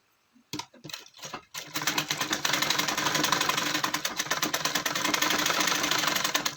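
A sewing machine stitches a gown for a three-year-old child, starting with a few short hesitant bursts before settling into a fast, steady, loud mechanical rattle that runs continuously to the end.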